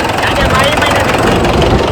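A village farm tractor's engine runs close by, a loud, dense, rumbling drone that continues steadily while people talk over it.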